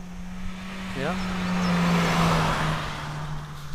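The zero car on the Bolulla-Tárbena 2021 hill climb approaches and passes with a swelling, steady engine note that peaks midway and fades, under a low constant hum and a brief voice.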